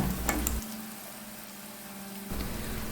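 Chillies sizzle in oil in a pan for chilli pickle, a steady hiss of frying that dips quieter in the middle and then swells again, heard alone at close range.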